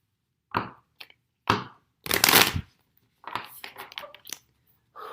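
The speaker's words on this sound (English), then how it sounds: "Ooh, this is a good shuffle." A deck of cards is shuffled close up in a few short crackling bursts with one longer riffling rush in the middle, separated by quiet gaps.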